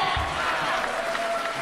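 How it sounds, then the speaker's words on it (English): Crowd applause and cheering at an intergender wrestling match, a brief steady wash of clapping from the audience with a commentator's voice faintly underneath. "they all deserve this round of applause."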